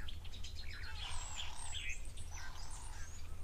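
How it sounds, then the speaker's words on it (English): A yellow-breasted apalis calls at an African waterhole with quick bright chirping phrases over a steady low rumble, and other birds chirp faintly around it. "Sounds like a yellow-breasted apelis or apelis."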